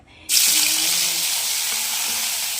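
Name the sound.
sautéing garlic, onion and tomato in hot oil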